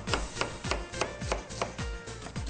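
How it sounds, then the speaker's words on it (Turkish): A knife chops onions into small cubes on a board, making quick, evenly spaced strikes, about nine crisp hits in under three seconds, close up with no talking. "Bir iki adet soğanımızı doğruyoruz. Küçük küçük küp şeklinde."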